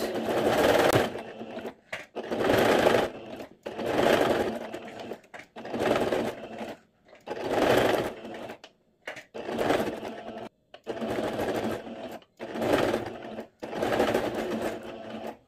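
A sewing machine stitches a coaster made from knitting rope, running in repeated bursts of about a second or two with brief stops between, close and steady, with no talking.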